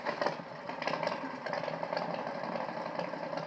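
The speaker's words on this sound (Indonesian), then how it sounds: "kemudian ada nih contohnya aggressive motorcycle" A continuous, rough engine roar with a gritty, revving texture, loud and steady throughout, with no voices.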